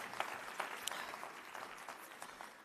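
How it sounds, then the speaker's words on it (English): Audience at a conference plenary session giving a round of applause, a dense wash of many hands clapping at a distance, faint and steady with a few sharper claps standing out. "Give yourselves a big round of applause,"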